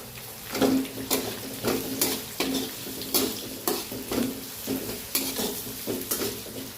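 Onion frying with a ground masala paste in a pan, a steady close sizzle broken by rhythmic spatula stirs and scrapes against the metal every second or so, with no talk.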